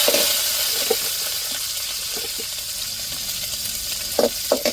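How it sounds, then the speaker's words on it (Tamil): Curry leaves sizzle in hot oil in a pan already holding mustard seeds and onion, a close crackling hiss with a few sharp pops and spits near the end. "இப்போ கருவேப்பிலை சேர்த்துக்கிடுவோம்"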